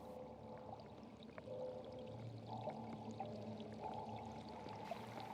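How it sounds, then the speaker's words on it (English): Muffled, resonant underwater ambience heard through a listening horn, with low rumbling, faint clicks and watery gurgles, steady and distant throughout. "they're underwater sounds, but they're also affected by the listening horn"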